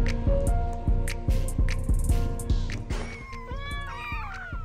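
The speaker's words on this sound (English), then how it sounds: "All the baby kitties are out." Several high, thin kitten meows cry out in quick succession, overlapping a steady rhythmic thumping in the background.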